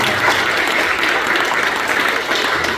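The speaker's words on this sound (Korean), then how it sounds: "우리 한번 경례의 박수 부탁드립니다" A church congregation at an early-morning special prayer service applauds together, a continuous and fairly loud wash of clapping that holds evenly for nearly three seconds.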